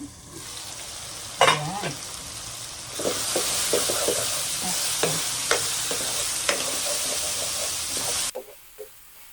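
Ground pork fries in a pan with a loud, steady sizzle broken by utensil clinks and stirring, then drops off sharply near the end as the lid goes on; a brief spoken word is heard.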